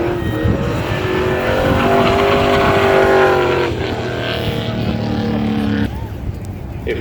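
Trans Am drag car at a spectator drag event winding up its engine on the track, a loud sustained engine roar rising in pitch, with a commentator talking over it before it drops away abruptly.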